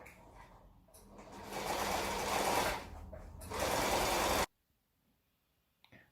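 A sewing machine stitches around the edges of caravan seat upholstery and padding in close, fast bursts that stop and start, then falls silent, leaving only a faint tap at the end.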